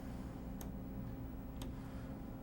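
The BeOS clock application gives two faint, sharp ticks about a second apart over a steady low electrical hum.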